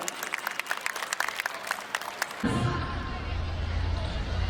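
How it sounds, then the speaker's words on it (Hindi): A crowd on the school ground bursts into loud, sustained applause at an annual sports day, starting about halfway through after a stretch of scattered clicks and background bustle, then holding steady to the end. "एक बार जोरदार तालियां जगदीश सर के लिए।"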